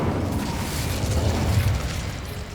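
An Incendio fire spell in Hogwarts Legacy erupts as a dense, roaring burst of fiery noise that holds for a couple of seconds at close range.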